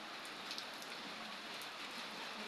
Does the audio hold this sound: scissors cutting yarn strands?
no